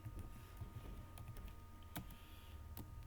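Typing on a computer keyboard while laying out a flyer, a few light scattered key clicks close by over a low constant background hum.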